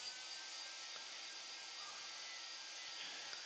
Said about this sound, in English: Just get the dryer and dry off a little bit.